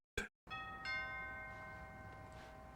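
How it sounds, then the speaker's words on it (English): A doorbell rings once indoors, a short sharp burst followed by a second two-tone chime whose tones hang and slowly decay, fairly faint and alone. "how many times does that doorbell ring"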